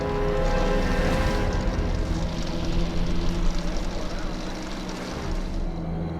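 A mechanical film prop, a human-sized grinder with gears built for a Final Destination 4 scene, starts up with a steady, loud, droning hum that runs without a break.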